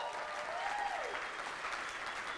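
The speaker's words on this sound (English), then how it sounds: "Let's give him a big round of applause for that." An audience claps at an event, a steady, even wash of applause that goes on without a break at moderate volume, with a faint voice briefly rising over it.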